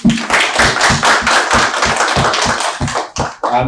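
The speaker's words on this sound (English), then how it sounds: "Let's give a round of applause for the panelists." Panelists at a technology roundtable get a round of applause from a small audience: close, crisp claps in a fairly regular rhythm that fade toward the end.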